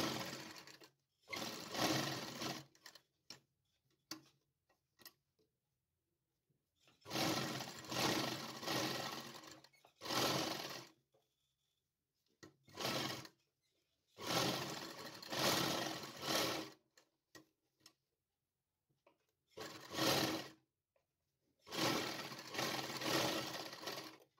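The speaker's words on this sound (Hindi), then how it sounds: "एक सिलाई मैं इसके ऊपर से फिनिशिंग के लिए लगा लेती" An electric sewing machine stitches finishing seams on fabric for a small dhoti for a Krishna idol, running in several loud bursts of steady whirring separated by silent pauses, close and without voices.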